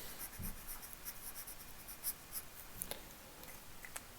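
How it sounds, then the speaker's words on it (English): A teacher writes on a board during a chemistry lesson on aldehydes and ketones, making quiet scratchy pen strokes in short irregular bursts, faint and close, with no talking. "I'm going to write the methyl next"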